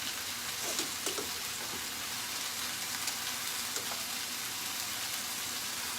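Squash frying in a pan gives a steady, close sizzle throughout, with a few brief crackles and pops on top of the continuous hiss.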